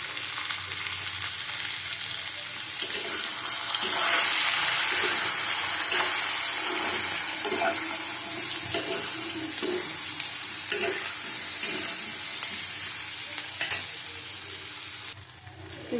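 Onion and turmeric sizzle steadily in a hot pan, a loud continuous frying hiss with occasional stirring scrapes, no voices over it.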